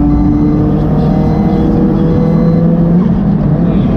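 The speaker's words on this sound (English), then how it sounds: "That's more Japanese kind of sound that is with the speaker pipe." A 440bhp Subaru STI Type UK engine and exhaust rev hard and loud, a dense, close, continuous drone with a slight rise in pitch, no talking over it.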